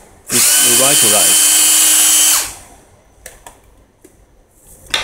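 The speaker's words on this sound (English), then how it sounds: "And the old power drill now revitalized." A repaired 18V cordless power drill whirs loudly for about two seconds, its pitch rising and dipping as it spins up, then stops, leaving faint clicks.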